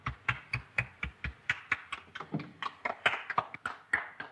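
Sparse hand clapping from a small group in a 1932 film scene, a series of sharp separate claps in a loose, uneven rhythm, fairly faint and close.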